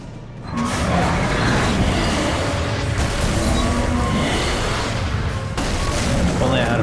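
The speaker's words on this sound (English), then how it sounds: "Flashbang, huh?" Flashbang grenade going off in Alan Wake: a loud burst erupts after a brief quiet start, followed by a sustained roaring, ringing wash with further booming impacts, close and dense throughout.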